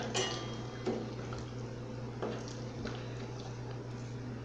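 A chocolate porter beer mash being stirred in a brewing pot at a steady 62-degree rest, giving soft sloshing with a few light clinks against the pot over a constant low hum, with no voices.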